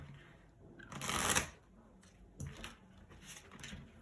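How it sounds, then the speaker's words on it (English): A deck of tarot cards is shuffled by hand in a few quick riffling bursts, close and soft, separated by short pauses. "I'm still shuffling."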